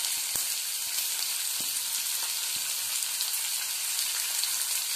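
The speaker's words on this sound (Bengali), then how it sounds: "এরপরে আমি পেঁয়াজ কুচি আর ক্যাপসিকাম কুচিটা দিয়ে দিলাম" Chopped onion and capsicum fry with browned garlic in a pan, giving a dense, continuous sizzle with a few soft clicks of stirring, close and with no voices.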